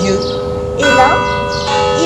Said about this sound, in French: les cloches qu'on entend